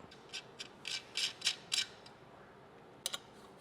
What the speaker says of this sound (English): we'll use a 3mm Allen wrench to tighten these up